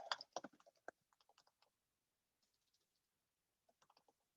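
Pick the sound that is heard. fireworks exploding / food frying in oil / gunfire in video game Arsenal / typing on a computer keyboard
typing on a computer keyboard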